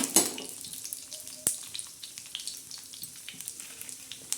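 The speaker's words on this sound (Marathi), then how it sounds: "आता झट झटपट असे मस्तपैकी लालसर आपण बोंबील भाजून घेऊया" Bombay duck (bombil) fish frying on a hot tawa, a steady soft sizzle and crackle with scattered pops and a sharper clatter near the start, close by with no one talking.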